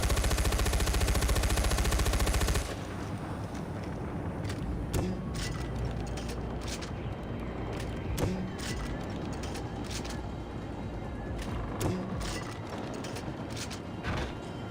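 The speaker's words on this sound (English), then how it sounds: "Great old machine gun." Old machine gun firing in Far Cry 4, opening with a dense, loud sustained burst of rapid fire that cuts off, followed by scattered single shots and mechanical clicks over a busy game background.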